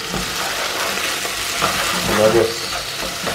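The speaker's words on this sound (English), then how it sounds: "I'm just putting my vegetables in there. My onion, my scallion," Onion, scallion and tomato sauté in a hot iron pot, a loud continuous frying hiss with stirring, while a person talks over it.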